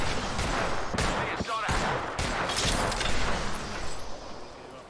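Rapid bursts of gunfire and impacts in an Apex Legends match during a fight, dense and loud, with shots crackling in quick clusters across the whole stretch.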